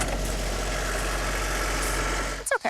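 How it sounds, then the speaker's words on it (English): A small tractor levels land at the site of a new sheep shed, its engine idling with a steady low rumble that breaks into a few short knocks at the end. "It's a mighty little tractor."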